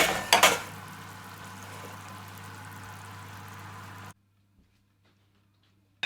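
A lamb shoulder, roasted for 30 minutes, is lifted from the oven pan into a gratin dish: a few sharp metallic clanks up close at the start, then a steady kitchen hum that cuts off to near silence.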